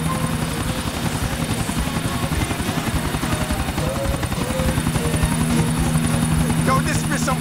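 A helicopter flies in Grand Theft Auto 4, its rotor chopping in a steady, loud, close drone that builds slightly toward the end, with voices talking over it.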